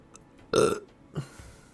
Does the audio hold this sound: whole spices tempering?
no